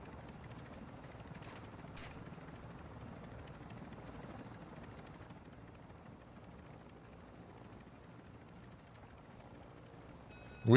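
Heavy chopper in Call of Duty DMZ, a faint, steady rotor rumble and engine wash running continuously at low level, with a few sharp ticks early on and a sudden louder burst at the very end.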